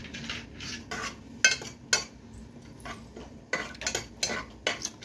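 Whole garam masala spices dropped into hot oil in a pan for chicken soup, soft crackling under repeated stirring scrapes and metal utensil clinks, close-up and fairly quiet.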